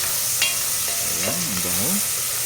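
Garlic and ginger sauté in a pan for native chicken tinola, giving a steady sizzle and hiss with a stirring scrape midway, close and moderately loud, no voices.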